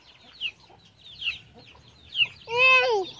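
A few short, soft chicken clucks spaced apart in a rural backyard, followed by a louder, drawn-out squawk near the end, outdoors with quiet background.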